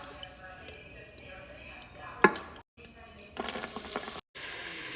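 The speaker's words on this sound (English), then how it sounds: "Just get all your veggies and start sauteing them" Chopped vegetables hiss and sizzle in hot olive oil in a big soup pot, a steady close frying crackle with a sharp clatter near the middle and a louder burst of sizzling toward the end, broken by two brief silent gaps.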